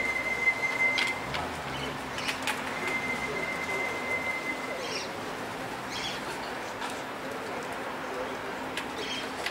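Racing pigeons arriving at a loft during a final race flight, with faint soft cooing and bird calls over steady outdoor background noise and occasional distant chirps.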